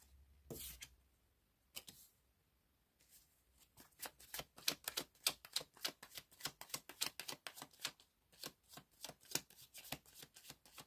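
Tarot cards are shuffled by hand close up, with quiet riffling bursts that build into a rapid, crisp flutter of slapping cards as some fly out, no voices.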